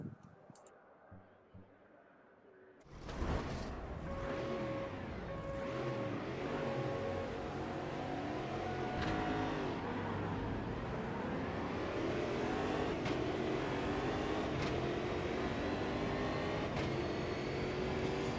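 Stock car engines roar at a race start at Goiania in the Automobilista 2 racing game, loud, close and sustained, rising together after a quiet opening with revving tones layered throughout.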